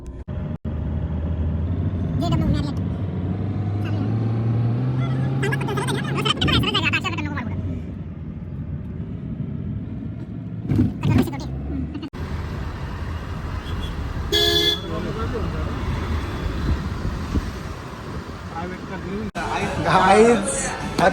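A car pulls away into busy city traffic after a signal change, with several short car horn toots near and far over steady road noise and people chatting inside.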